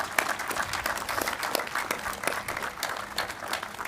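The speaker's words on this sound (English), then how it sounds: "Can we give all of those 80 donors a round of applause?" Audience at a university Veterans Day memorial dedication applauding donors, with steady broadband clapping from a crowd throughout, moderately loud and continuous.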